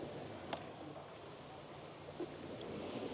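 Surf rolling onto a shore in Bali heard after a rain shower, a steady low wash of waves with wind buffeting the microphone, fairly faint and continuous with no voices.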